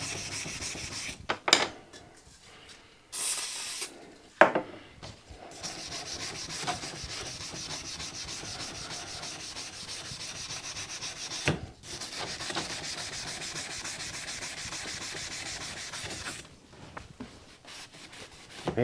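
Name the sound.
removing rust from metal by abrasive rubbing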